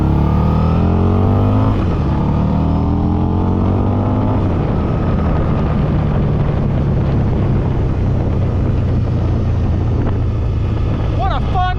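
A 2004 Harley-Davidson motorcycle being ridden, its engine loud and close, with rising gear pulls over the first few seconds and then a steady drone under heavy wind buffeting.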